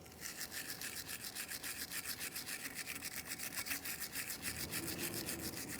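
A wire brush or sandpaper scrubs the rear brake caliper bracket of a GMC Acadia, a steady rapid back-and-forth rasping in an even rhythm, close and continuous, with no talking.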